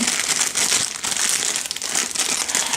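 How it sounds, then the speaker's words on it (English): Plastic packaging around wax melts crinkles and crackles continuously at close range, a dense, rustling texture that rises and falls slightly in loudness without any talking. "Sorry about the crinkling."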